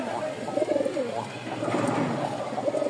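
Fancy pigeons, a freshly matched breeding pair with the male in full display, coo in repeated throaty rolling phrases close by, steady and continuous over a faint background.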